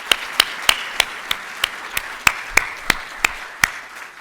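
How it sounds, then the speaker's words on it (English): At an inductee luncheon, a few people clap in a sparse, evenly spaced rhythm of about a dozen sharp claps, clear and fairly close, with no voices. "So let's give them a round of applause."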